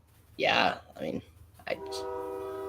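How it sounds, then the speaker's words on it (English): A voice speaks briefly, then a loud, sustained horn-like blare like a train horn sounds and holds to the end. "Almost like a train siren, too."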